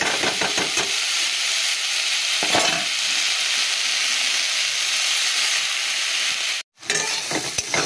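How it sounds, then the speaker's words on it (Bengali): Bitter gourd and potato fry in a pan at a home stove, a steady loud sizzle and hiss with a few stirring scrapes and one brief break near the end, no talk. "উচ্ছে আলু ভাজাটা মোটামুটি হয়ে এসছে বুঝেছো"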